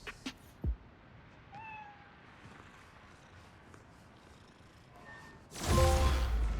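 A cat meows a few times in the Spider-Man: Miles Morales video game, short mewing calls spaced apart over quiet game ambience, followed by a louder burst of sound at the end.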